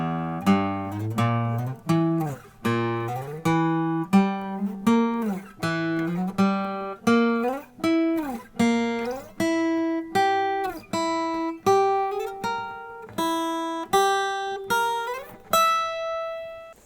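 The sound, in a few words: guitar notes played on the fretboard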